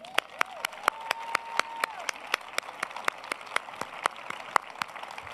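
Rhythmic clapping at a Martin Luther King celebration evening event, crisp evenly spaced claps over a soft crowd background, with a brief whistle-like tone early on.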